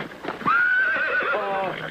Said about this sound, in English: That's a rather nippy little horse.